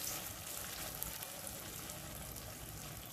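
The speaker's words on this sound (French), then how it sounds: "je commence la friture" Falafel frying in hot oil, a constant close, bright crackling sizzle with a few small pops, steady throughout and free of speech.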